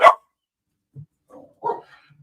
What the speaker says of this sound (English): Sorry, that's my dog.